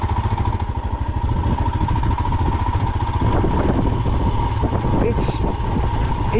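A Royal Enfield Himalayan motorcycle climbs a hill on off-road back-country tracks in second gear, its engine a steady loud throbbing drone with wind rumble, while a rider talks over it throughout.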